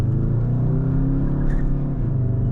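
A 2021 Škoda Octavia RS 2.0 TDI diesel, in Sport mode with the gearbox in S, pulls hard with a loud, steady engine drone and a slowly rising tone, heard from inside the car without talk.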